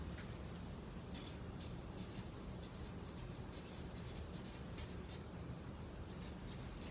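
Pen strokes of a number being written by hand, a soft run of scratchy marks over steady low room hiss, near and faint.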